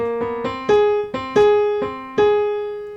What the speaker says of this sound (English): It's called The Entertainer, and it goes like this.